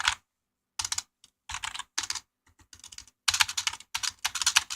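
Someone types on a Bluefinger Magic Wings M200 gaming keyboard with hard key presses, giving clusters of sharp, close clicks separated by short pauses.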